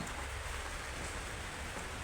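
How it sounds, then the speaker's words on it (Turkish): Rain falls in a steady, dense hiss, loud and continuous throughout, with no other sounds breaking through. "Daha yağmur var arkadaşlar."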